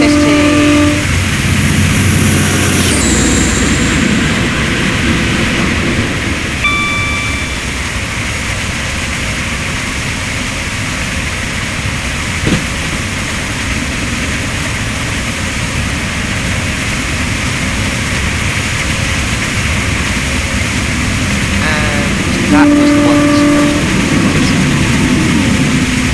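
High Speed Train (HST) rumbling past in Train Simulator 2017, a loud continuous drone of engine and rail noise with horn-like tones at the start and near the end.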